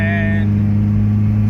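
Honda Civic with an H22 engine swap cruising in fifth gear: a steady, loud low engine drone with a constant hum throughout, and a brief tonal whine at the start.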